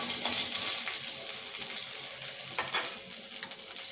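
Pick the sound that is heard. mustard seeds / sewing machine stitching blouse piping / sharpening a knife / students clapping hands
mustard seeds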